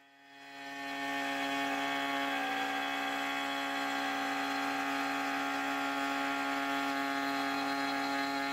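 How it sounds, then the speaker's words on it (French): A router fitted with a copy (pattern) bit trims a 5 mm guitar neck template against a 15 mm template for a Telecaster, giving a steady, loud, high-pitched motor whine that spins up in the first second and then holds alone. "reproduire la forme à l'aide de la fraise à copier."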